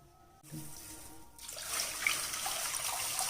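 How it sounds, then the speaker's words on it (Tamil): Water poured from a glass into a cooking pot, about four glassfuls, for a temple-style kali prasadam: a steady splashing trickle after a brief clink, continuing bright and close with no talk. "அதே கிளாஸில் நாலு கிளாஸ் தண்ணி சேர்த்துட்டேன்"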